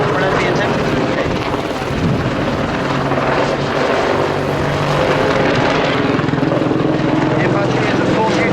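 An Apache attack helicopter drones steadily overhead at an air show with a loud, continuous rotor and engine roar and some wind buffeting, with a voice faintly present beneath.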